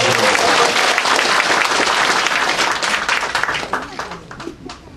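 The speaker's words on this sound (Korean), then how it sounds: "우리 신원직 박수 한번 부탁드립니다" Applause from a crowd at a Korean political rally: dense, sustained clapping that holds steady and then tapers off toward the end, with voices mixed in beneath.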